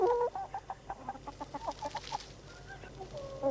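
Hens cluck close by in a quick, rhythmic run of short clucks, a busy burst of several birds that tapers slightly toward the end, with no voices.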